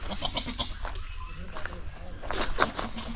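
Goats bleating around a spring in Madhya Pradesh, several short calls scattered through the clip at moderate distance, with footsteps and background voices mixed in.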